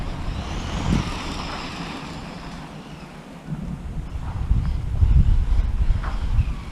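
A Tamiya BBX BB-01 radio-controlled car runs outdoors, its motor whine blending into rumbling, wind-buffeted noise that swells and fades as it passes, louder and rougher near the end.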